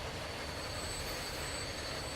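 A steam tram rolls along its track in the railway-building game Transport Fever, making a steady, dense rumble of wheels and rails with a faint high squeal running over it. No voices.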